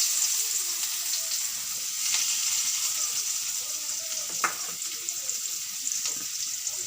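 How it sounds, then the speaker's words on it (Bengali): Chopped onion frying in oil with dried red chilli for a banana-peel paste dish, giving a steady broadband sizzle with a few soft stirring clicks, close and continuous with no talk. "পেঁয়াজ কুচিটা একটু ভালো করে ভেজে নেবেন।"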